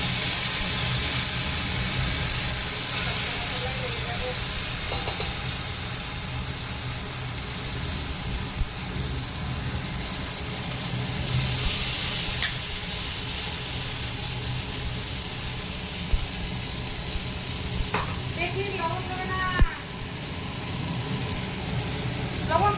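Mixed vegetables frying with spices in a pan over a gas stove for a vegetarian meal, a steady broadband sizzle and hiss running throughout with a few faint clinks near the end, no talking.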